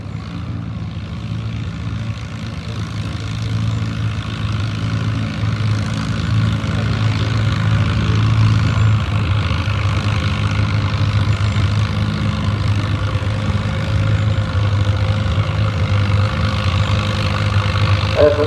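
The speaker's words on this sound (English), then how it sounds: "It's a nice looking tractor." An antique tractor engine roars through a Division II antique tractor pull at Boonville, Missouri, a loud, steady low drone that builds over the first few seconds and then holds strong.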